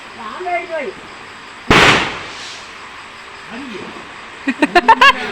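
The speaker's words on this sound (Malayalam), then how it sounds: "ആദ്യത്തെ രണ്ട് പടക്കം പൊട്ടിച്ചത്" A firecracker bursts with one sharp, loud bang during a family Vishu celebration at home, then a quick run of smaller pops follows, with people talking around it.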